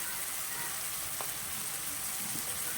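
Potatoes frying in oil in a pan for vegetarian aloo dum give a steady, close crackling sizzle that holds at an even level throughout, with no talking over it.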